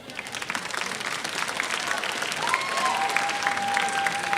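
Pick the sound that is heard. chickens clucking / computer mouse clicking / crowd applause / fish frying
crowd applause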